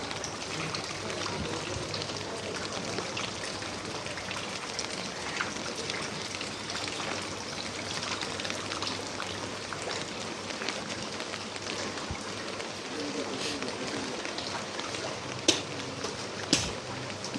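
Heavy rain pours onto a flooded street in Farmgate, a steady dense hiss of downpour hitting water and pavement throughout, with a few sharper splashes or knocks near the end and no speech.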